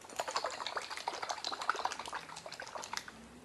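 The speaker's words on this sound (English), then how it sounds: "Now, put the lid on tight and you're going to give it a shake" Liquid sloshes inside a tightly lidded glass jar shaken by hand, a close, steady rattle of splashing bursts lasting a few seconds with no talking.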